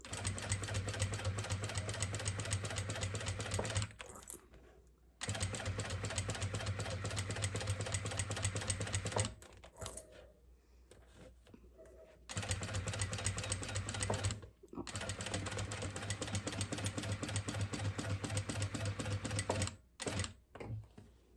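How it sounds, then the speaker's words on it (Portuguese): A sewing machine stitches a final seam with backstitching at the start and end, running in long steady bursts of rapid close mechanical clatter separated by short pauses and a quieter stretch, with no talk over it. "aqui vamos fazer a costura final, certo? Bem bonita, retrocesso no começo e no final."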